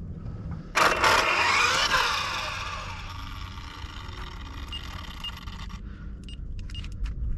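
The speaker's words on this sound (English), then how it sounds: "So once this car passes, we'll get going." A car passes on a nearby road, rising quickly to a loud broadband whoosh, then fading gradually into steady background road noise.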